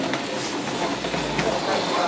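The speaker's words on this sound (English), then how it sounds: "Oh, these are trams." A tram rolls along rails at a light railway and tram exhibition, giving a steady close rumble with faint clicking wheel noise throughout, while voices murmur in the background.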